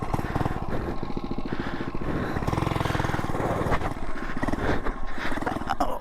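An FRP GMB100 mini bike engine revs hard during a wheelie attempt. The small single-cylinder motor gives a loud, close, buzzing roar with rapid pulsing that holds at high revs and wavers throughout, with no speech over it.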